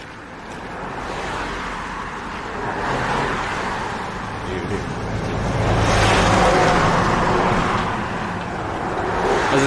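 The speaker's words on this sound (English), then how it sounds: "There's a commercial truck here." A commercial truck drives past on a roadside shoulder, a broad rushing roar that swells, eases and swells again over several seconds, loud and close, alone with no talk.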